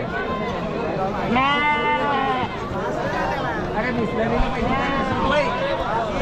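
Many sheep bleat at a crowded sheep and goat market in Chakan, calls overlapping near and far over steady crowd murmur, with people talking throughout.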